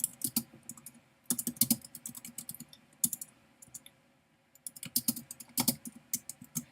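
Fingers type on a computer keyboard in bursts of quick, close clicks with brief pauses between runs of keystrokes, no voices present.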